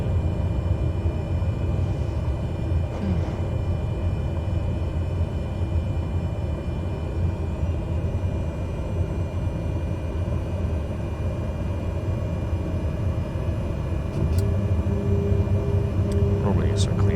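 A Cessna Grand Caravan takes off from La Guardia in a flight simulator game, with a steady engine and propeller drone throughout and a slight lift in loudness near the end, under faint talk.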